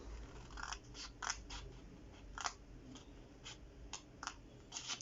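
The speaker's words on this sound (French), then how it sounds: "Vous coupez de façon à créer une languette." Scissors snip through paper while making a scrapbooking storage box, a string of sharp, close cutting clicks coming in an uneven rhythm, roughly a dozen cuts over a quiet background.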